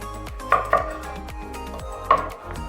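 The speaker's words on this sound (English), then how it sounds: "Slice them down the middle. Remove the seeds." A knife slices through small sweet peppers on a cutting board, with three distinct close, crisp knocks of the blade against the board amid light rustling.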